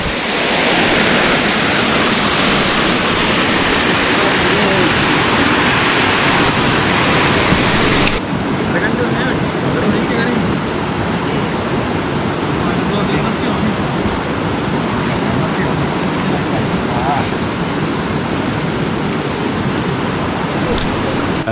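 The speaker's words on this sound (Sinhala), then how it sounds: "මේ තියෙනවා තවත් ලස්සන දියල්" Water pours over a waterfall on a forest hiking trail in Sri Lanka, a dense, loud, continuous rushing roar that fills the whole stretch, louder and brighter for the first several seconds before settling slightly.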